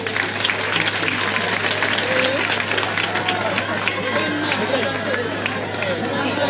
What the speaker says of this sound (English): Let's clap for all the candidates for Kawempe North.